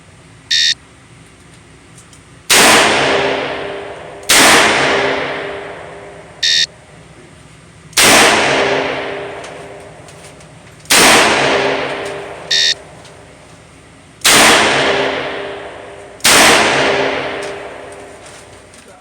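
A Colt MkV Trooper revolver fires six loud, sharp shots in three pairs on a range. Each shot rings out and decays quickly, and a short electronic beep sounds before each pair.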